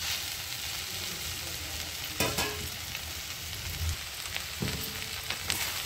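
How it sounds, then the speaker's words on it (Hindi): Okra (bhindi) sizzling steadily as it fries in a pan, with a couple of sharp scraping clicks as it is stirred; no talking, close and continuous. "थोड़ी थोड़ी देर पे हम भिंडी को चलाते रहेंगे"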